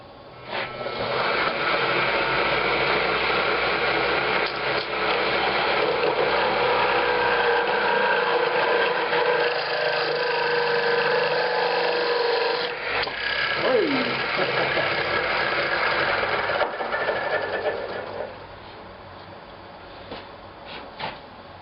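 A segmented wooden bowl being parted off on a wood lathe gives a steady, loud whirring and scraping cut that runs for about eighteen seconds, then drops away to quiet.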